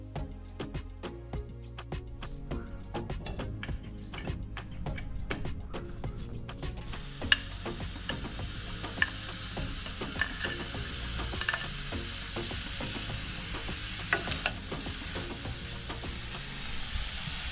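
Paneer and bell peppers sauté gently in olive oil over low heat, with a soft continuous sizzle, clicking stirs and utensil taps early, then a smoother frying hiss.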